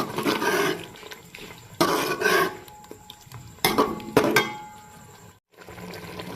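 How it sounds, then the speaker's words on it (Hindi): Spices being fried and stirred in a pan for chicken gobi, with bursts of scraping and metal clatter from a spoon against the pan in several short clusters, fairly close, with no talk. "अब मसालों को हमने अच्छे से भून लेना है।"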